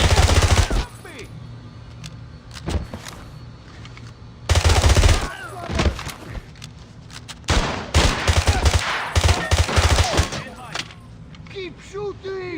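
Rapid automatic gunfire rattles through a firefight in James Bond 007 Blood Stone, coming in loud close bursts separated by quieter gaps, with shouted voices among the shots.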